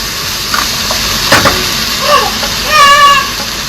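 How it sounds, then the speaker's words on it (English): Pork menudo cooks in a pan with a steady sizzle and hiss, occasional stirring clatter and a brief higher squeal near the end. "Yeah, I really love that sound, that cooking sound."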